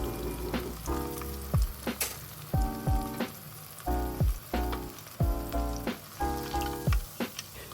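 Honey roasted peanut chicken deep frying in hot oil, a steady close sizzle and crackle broken by repeated louder bursts of bubbling as the pieces cook, with no talking.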